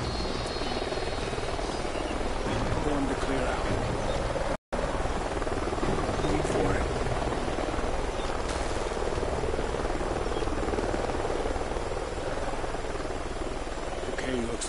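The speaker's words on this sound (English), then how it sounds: "Sounds like a chopper's up ahead of us." In a video game, a helicopter flies somewhere ahead in a canyon, a steady, continuous rotor drone that holds at an even level throughout, broken by one brief dropout.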